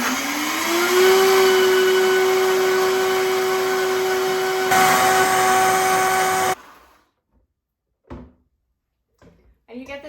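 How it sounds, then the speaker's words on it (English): Countertop blender whirring cashews and water, a loud steady motor whine that pitches up as it spins, runs for several seconds, then stops abruptly, followed by a few faint clinks and knocks. "We'll let the blender do the work for us."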